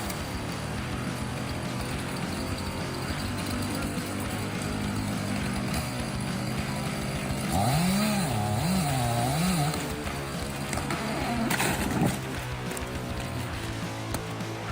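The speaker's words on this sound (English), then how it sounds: "the chainsaw continues working without hesitation" A chainsaw runs steadily while cutting through a dense tree trunk during logging work, with a loud, continuous engine drone that pulses in pitch midway as the bar bites into the wood.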